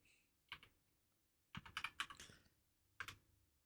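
Rapid mouse or keyboard clicks while voting in an online stream game, arriving in three short bursts: a quick pair, a dense run of clicks, then a final pair, close and quiet.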